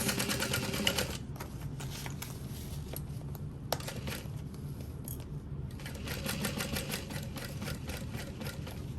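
A sewing machine stitches a half-inch seam around the outside edge of a small backpack front pocket, with quiet rapid bursts of stitching at the start and again near the end and a softer mechanical pause between.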